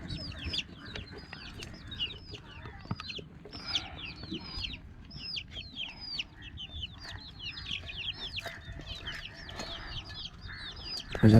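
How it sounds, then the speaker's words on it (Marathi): A flock of chickens clucks and chatters steadily and softly at a slight distance, with busy pecking sounds under the calls. "सगळ्या कोंबड्या खातात मस्त की"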